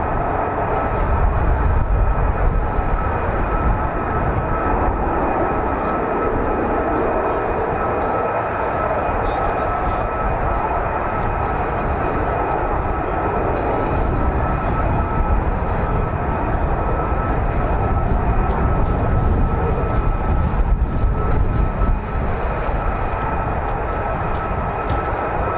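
A US Air Force F-15 or F-35 fighter jet at RAF Lakenheath produces a loud, continuous jet roar that holds steady across the whole stretch, dense and rumbling with no clear pauses.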